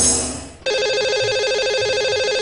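A telephone call is placed from a radio show to a caller: a brief dial tone cuts off, then a repeating electronic ringback warble sounds steadily and loudly without any talking.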